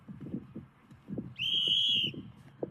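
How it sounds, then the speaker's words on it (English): One strong, sustained referee whistle blast lasting under a second rises over the steady hum of a distant crowd. "Confident whistle."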